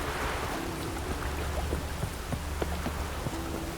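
Rain falls steadily in The Witcher 3, a soft continuous hiss with scattered drip-like taps, faint and even throughout.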